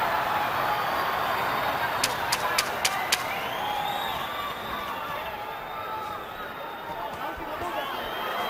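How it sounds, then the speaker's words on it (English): A boxing arena crowd at the Oscar De La Hoya vs. Javier Castillejo fight keeps up a steady roar, with a few sharp claps near the middle and a voice talking over the din. "Crowd chanting, Oscar, Oscar, Oscar."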